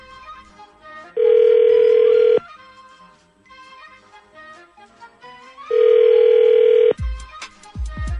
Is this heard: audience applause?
no